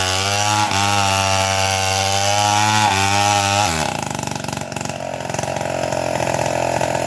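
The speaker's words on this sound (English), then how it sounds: "that's a stinky chainsaw, that one" A big chainsaw cutting up a large tree runs loud and close, its engine revving and dropping, then settling into a rougher, buzzing cut.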